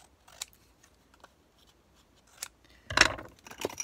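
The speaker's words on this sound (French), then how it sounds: "mon petit ciseau." Small scissors snip paper for a handmade Christmas tag, a few sparse close cuts at first, then a louder, quicker burst of snipping near the end.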